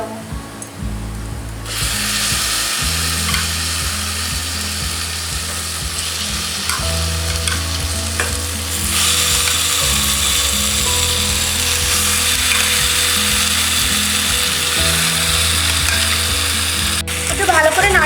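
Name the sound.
marinated chicken frying with fried onions in a pan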